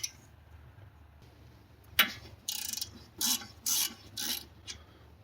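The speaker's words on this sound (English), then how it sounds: "Remove 7 millimeter hex" A ratchet loosens the 7 mm hex guide pins on a BMW X3 E83 front brake caliper: a sharp knock, then four short bursts of rapid clicking separated by pauses, close up in a quiet workspace.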